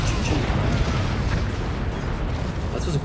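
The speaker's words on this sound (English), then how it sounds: "this howitzer shot is going to go through, and cannon collapse" A howitzer shot and a collapsing cannon in a multiplayer strategy video game make a dense, rumbling explosive roar with crackling bursts that stays loud and sustained throughout.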